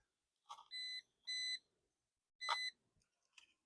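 A metal detector sweeps over gold panning tailings in a backyard, giving a series of sharp electronic beeps: a short chirp, two sustained tones, then another tone and a faint blip, clear and alone against quiet.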